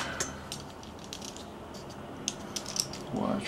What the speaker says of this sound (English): This wire's a different length, and I think I might be tempted to trim it down a bit.